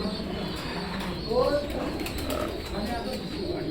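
Pigeons coo softly in a low, rolling murmur over a steady background hum in a pigeon loft, with faint wing rustles and distant voices mixed in.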